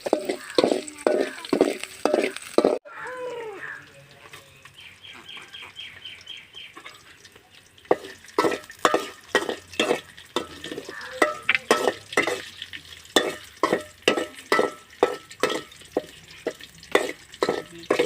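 Onions frying with salt for a mushroom gravy, heard as steady pan sizzling broken by a repeating rhythm of stirring scrapes, with a quieter stretch near the middle before the stirring picks up again.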